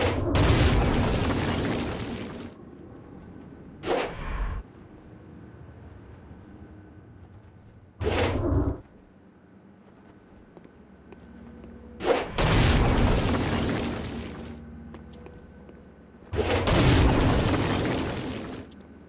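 Stone Blast power attacks in Saints Row: Gat out of Hell, a series of loud booming blasts, some long roaring bursts and some short sharp thuds, separated by quieter gaps of low rumble.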